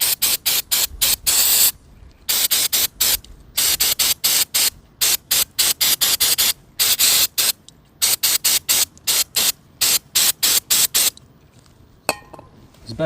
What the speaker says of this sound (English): Now we are ready to clean the outside of the carburetor